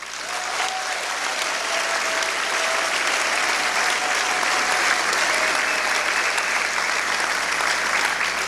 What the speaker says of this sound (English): Please join me in applauding these climate leaders